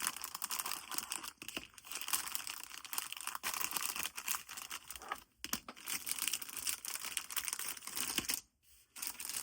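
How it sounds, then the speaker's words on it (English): Crinkling and tearing of a plastic pack of Dollar Tree pencils being opened, a close, steady rustle with brief pauses, no talking. "So I'm just going to open up this pack and I'm going to pick out 3 pencils."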